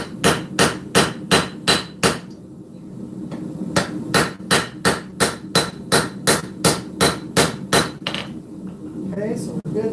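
Steady rhythmic hammer blows on a full integral knife blade during forging, about a dozen sharp ringing strikes in quick succession, a brief pause, then another long run of evenly spaced hits, close and loud.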